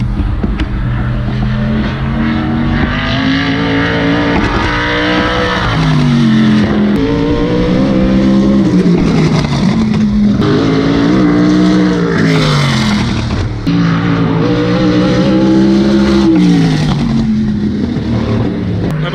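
A race car on a qualifying lap roars loudly and close, its engine pitch rising and falling repeatedly through gear changes and corners over a sustained run.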